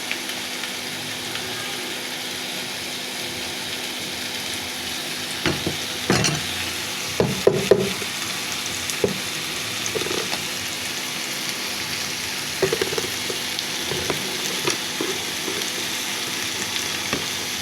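Eel frying in a pan with spice powder, a steady close sizzle throughout, broken by occasional scraping clicks and knocks as it is stirred.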